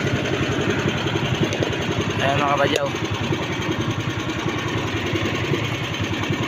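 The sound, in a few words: boat engine idling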